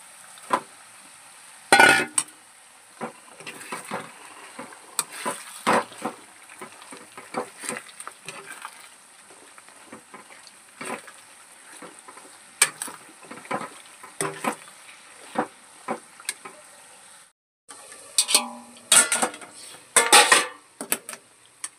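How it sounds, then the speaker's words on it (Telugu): Chana and garlic paste frying in a pan, with a spatula stirring and scraping in repeated clinks and scrapes over a steady soft sizzle, close and fairly loud, with a brief pause near the end. "వెల్లుల్లిపాయ ముద్ద వేసిన తర్వాత చూడండి ఇలా వేగింది కదా, అప్పుడు ఈ శనగనైతే వేసుకోవాలి."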